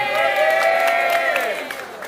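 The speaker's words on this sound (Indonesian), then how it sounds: "Dan boleh tepuk tangan buat semua yang terlibat." A crowd cheers and claps after a 23 km group bike ride in Jakarta, a dense wash of applause and shouting voices that holds steady through the short clip.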